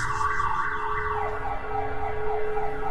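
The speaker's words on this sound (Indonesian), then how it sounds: "aku terbangun karena mendengar suara alarm mobil yang berbunyi di basement" A car alarm sounds in a basement, a steady wailing electronic siren with a constant tone that fills the whole stretch at moderate loudness, with no talk.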